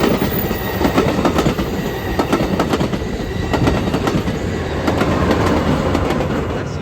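An eastbound Amtrak Capitol Corridor passenger train led by locomotive 8301 passing close by, a loud continuous rumble with rhythmic clickety-clack of wheels over rail joints.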